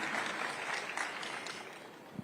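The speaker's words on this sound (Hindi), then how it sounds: "जोरदार तालियों से स्वागत कीजिए।" Applause from a crowd welcoming a Union food processing industries minister onto a political talk stage, steady and fairly faint, fading slightly toward the end.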